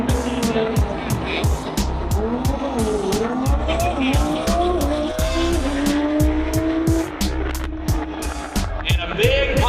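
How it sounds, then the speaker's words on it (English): A Toyota Supra drag racing down an eighth-mile strip roars loudly, its engine note sweeping upward through rapid gear changes, with sharp repeated pops and crackles layered over the sustained blare. "Now this Supra, if you listen to the sound, it does not sound like a six-banger."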